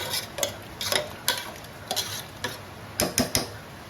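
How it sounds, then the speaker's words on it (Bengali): Coconut chana dal being mashed in a pan with a metal spatula, giving a series of short scraping, stirring strokes at an irregular rhythm over a faint sizzle, close and moderately loud. "এবার একটু খুন্তির সাহায্যে ম্যাশ করে নিলেই হয়ে যাবে।"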